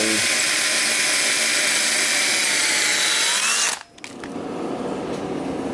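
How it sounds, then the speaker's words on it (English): A power drill whines steadily at high speed drilling a pilot hole in metal on a John Deere flywheel, briefly drops out, then spins back up into a continuous grinding drone. "Try not to drill all the way through."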